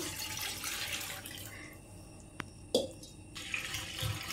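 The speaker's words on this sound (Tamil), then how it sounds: "ஒரு 2 செம்பு அளவுக்கு தண்ணி ஊற்றிக்கலாம்" Water pours from a small vessel into a kadai on the stove, a short splashing gush that fades, followed by a couple of clanks and a final splash.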